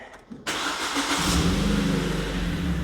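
A Ford Focus engine cranks briefly and catches on the first try, then settles into a steady, even idle that carries on close by, with no voices over it.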